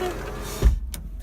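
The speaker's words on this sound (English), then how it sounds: "I'm gonna open the roof as well." Electric motor of a Honda Accord sunroof whirring briefly as it slides open inside the car, a short close mechanical hum ending in a soft thump.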